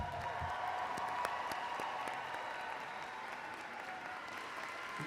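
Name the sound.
applause for graduates at a university graduation ceremony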